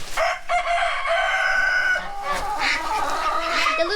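A yellowish backyard hen clucks and squawks in loud, close, strained calls, a rising cackle that carries through the whole stretch with no one speaking.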